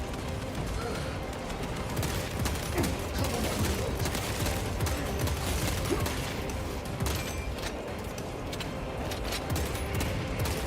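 Dense, continuous gunfire from the video game Space Marine 2, with overlapping rapid shots and bursts filling the whole stretch at a steady, loud level.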